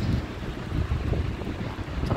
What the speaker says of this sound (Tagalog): Yung simoy ng hangin, lamig pa.